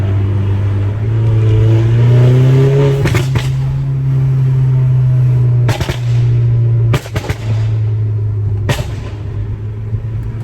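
A Volkswagen GTI engine with a new exhaust and muffler drones steadily while sharp exhaust pops and bangs crack out in several loud bursts, some in quick clusters.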